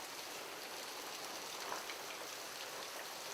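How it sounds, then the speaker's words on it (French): Steady rain falls at an old temple in Yoshino dedicated to water kami, a dense, even hiss of drops on surfaces that stays constant throughout with no voices. "Ça tombe bien, aujourd'hui en plus, il pleut."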